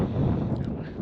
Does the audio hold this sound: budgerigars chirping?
no